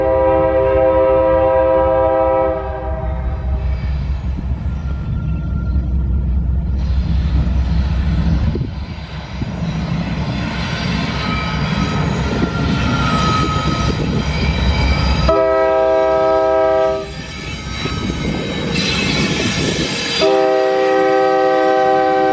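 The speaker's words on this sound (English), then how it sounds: "NSP-61 is a daily local that originates in Barber, North Carolina" Norfolk Southern local freight train NSP-61 rumbles past loudly at close range in Salisbury, North Carolina, its horn blowing in several long, powerful blasts over the heavy roar of wheels and engine.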